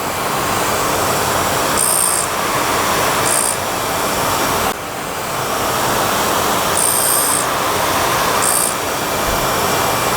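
A Herbert Junior Mk2 surface grinder grinds metal close by, throwing sparks, a steady harsh hiss and whir running throughout, with brief high whines recurring in pairs as the wheel passes over the workpiece, taking one thou at a time.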